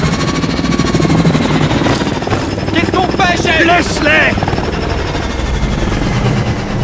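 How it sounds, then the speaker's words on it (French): Military helicopter in a Modern Warfare 2 fan film, its rotors beating with a loud, rapid chop as it flies overhead, continuing under shouted dialogue between soldiers. "Hélico!"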